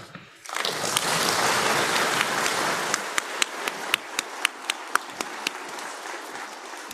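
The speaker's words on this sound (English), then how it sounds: "please clap your hands once again" An audience claps at the close of a public event, first in a dense, loud burst, then thinning into a string of distinct, sharp single claps that fade toward the end.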